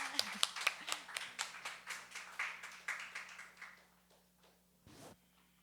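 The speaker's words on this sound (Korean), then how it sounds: "하나님께 영광의 박수 드립니다" A church congregation gives a round of applause during a worship service, a quiet, fairly sparse patter of claps that gradually thins and fades out, followed by a faint voice.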